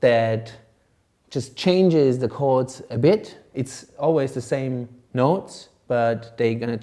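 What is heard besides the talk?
No everyday noise stands out behind the speech.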